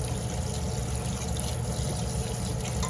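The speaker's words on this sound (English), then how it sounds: "So it says just to really rinse the meat." Water runs steadily from a tap over raw meat being rinsed in a plastic colander, a continuous close splashing stream with no pauses.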